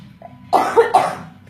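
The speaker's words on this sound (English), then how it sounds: "Still haven't completely got rid of this cough." A person with a lingering cough coughs sharply twice in quick succession after a faint throat sound, close and loud.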